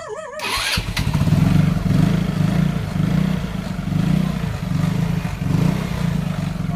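A motorcycle engine sputters to life after a brief starter crank, then settles into a steady, close, throbbing idle with slight rises in rhythm.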